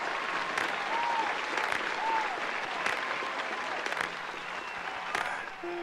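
Canned crowd applause from a soundboard during a live beat-making stream in Ableton, a continuous clapping and cheering effect lasting several seconds at moderate level.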